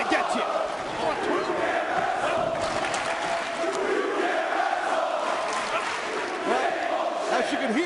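A large arena crowd at an ECW wrestling event jeers champion John Cena in a dense, sustained roar of booing and chanting, with a commentator talking over it.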